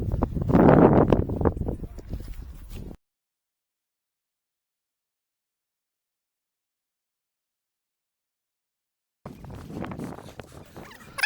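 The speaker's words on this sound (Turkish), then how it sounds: "güzel de bir rüzgar var" Gusty wind rumbling and buffeting against the microphone on a snowy plateau above Lake Abant, Turkey, cutting to silence for several seconds, then blowing again.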